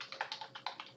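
Keys on a computer keyboard clatter in a quick, uneven run of about ten close, crisp clicks, heard alone with no talking.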